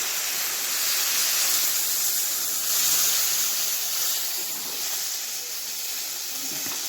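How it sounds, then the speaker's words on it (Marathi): Hot water poured into a pot of simmering chickpea curry (chole) makes a steady, loud rushing hiss that lasts the whole time and swells slightly midway. "चला गरम पाणी ॲड करा."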